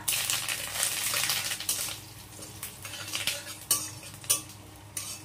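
Dry red chillies, cumin seeds and dried curry leaves fry in hot mustard oil in a kadai, a soft close sizzle with scattered metallic clinks and stirring scrapes of a spoon, no voices.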